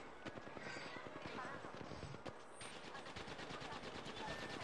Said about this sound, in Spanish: Tiros en 30-30. Tiros en 30.